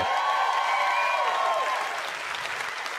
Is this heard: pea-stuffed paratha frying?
no